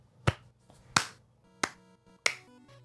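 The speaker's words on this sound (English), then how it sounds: "Slow clap." Four slow, sharp claps spaced well apart, close and crisp, each ringing briefly over a faint musical bed, alone without talk.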